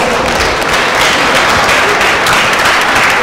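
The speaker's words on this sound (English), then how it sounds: "Let's give him a round of applause." Loud, dense audience applause at a youth and justice forum, continuous steady clapping filling the room without a break.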